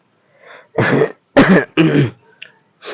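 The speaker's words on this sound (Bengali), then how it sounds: "এজন্য বারবারে কাশি হচ্ছে।" Someone with a bad cold coughs and clears their throat in a run of four or five harsh, close bursts separated by short pauses, with no talk.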